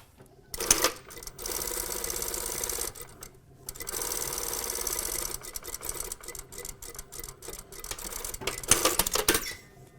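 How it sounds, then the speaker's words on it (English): A sewing machine stitches a French dart in a fashion box top toile, running in three bursts of rapid mechanical ticking with short pauses between them, fairly quiet and close. "now we're going to stitch the other dart on the other side"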